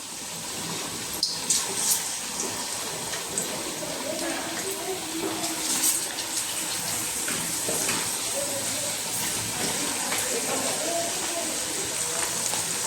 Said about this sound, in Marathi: आता आपण हे असं तेलामध्ये सोडूया असं एक एक करूनच आपण हे तेलात सोडूया